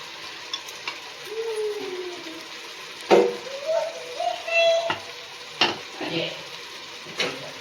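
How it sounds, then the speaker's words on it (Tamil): Rice is stirred into paneer pulao in a pot, with a soft simmering sizzle under sharp spoon knocks against the metal rim. A few faint, tonal voices are heard in the background. "அரிசியை சேர்த்துட்டு நம்ம நல்லா கலந்து விட்டுடலாம்."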